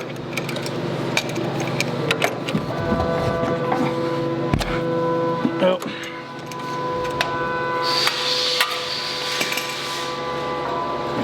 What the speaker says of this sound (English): Go ahead and take that tie rod off all the way.